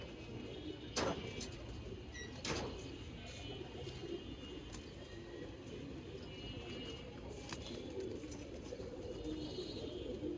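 A female tournament pigeon at a six-side pigeon tournament in Mirpur, with a couple of faint coos and brief calls over steady, noisy outdoor background.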